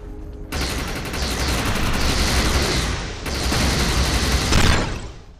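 Loud, sustained automatic fire in the sci-fi shooter Defiance, a dense continuous burst that pauses briefly and then resumes with heavy booming weight before trailing off, close and unaccompanied by speech.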